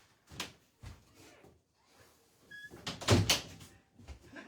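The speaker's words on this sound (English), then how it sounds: "I'm gonna shut the door." A door is pushed shut indoors with a few soft knocks and bumps, then a louder thud near the end, quiet and close.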